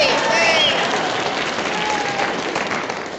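Studio audience applause during a radio comedy broadcast, a dense, steady wash of clapping that holds loud for about three seconds and eases slightly toward the end.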